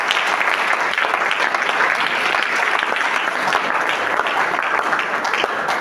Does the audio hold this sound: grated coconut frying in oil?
no